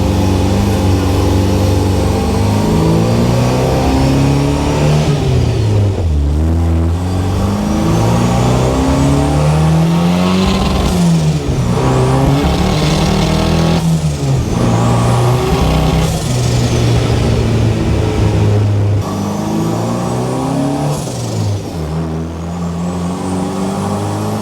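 A second-generation Toyota Ultra4 race truck drives hard, its loud engine revving up and down through repeated accelerations and gear shifts, close and dominant throughout.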